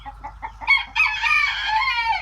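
Chickens on a farm cluck in short bursts before a rooster breaks into a loud, drawn-out crow close by, with no talking.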